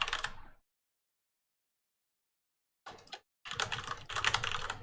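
Typing on a computer keyboard comes in quick clattering bursts of key clicks: a short flurry, a long silence, then a brief burst and a denser stretch of rapid, close typing with no speech.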